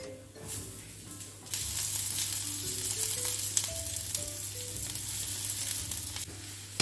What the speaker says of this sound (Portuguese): O azeite já esquentou, vou adicionar a cebola aqui